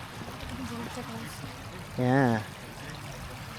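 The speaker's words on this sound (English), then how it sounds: "This one is bubbling and we can very much smell sulfur." Steady watery trickling and gurgling of a bubbling sulfurous hot spring in Iceland runs throughout, with a single short spoken word partway through.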